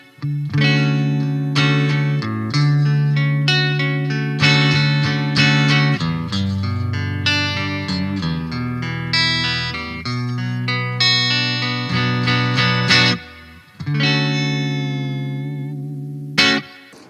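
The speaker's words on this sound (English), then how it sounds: "I'm going to play the same pickup, but I'm going to split the coil so it removes the noise-canceling hum coils" Electric guitar played through a single pickup with its coil split, clean sustained chords and single notes ringing with some effects-unit shimmer and distortion, loud and close, a brief pause near the end before another strummed chord, no talk.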